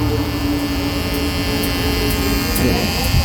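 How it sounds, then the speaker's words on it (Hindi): A steady electric trimmer buzz runs throughout at close range, with a low hum and faint clicks, no clear talking over it. "ये देखो खड़ी मशीन अगर चलाना चाहो तो इस तरीके से चला सकते हो।"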